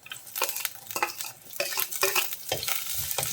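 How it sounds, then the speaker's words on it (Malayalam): Chopped onion sautéed with ginger and garlic in a pan for a Kerala-style sardine chilli curry, giving close, irregular scraping and stirring scuffs over a soft frying hiss, with a few clinks of a utensil against the pan. "സവോള നന്നായിട്ട് വഴറ്റിയെടുക്കണം."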